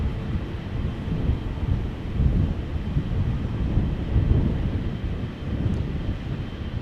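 A KLM Boeing 777-300 in SkyTeam livery departs Amsterdam Schiphol, giving a steady, loud low roar of jet engines that swells and holds throughout, mixed with wind buffeting on the microphone.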